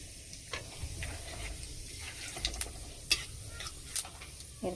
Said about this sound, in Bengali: একটু জিরে ফোড়নে দিচ্ছি।